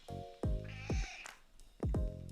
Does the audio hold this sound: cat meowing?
yes